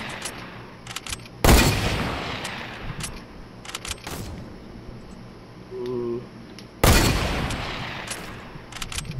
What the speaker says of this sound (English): That's at the house to the southeast, and they're shooting at people.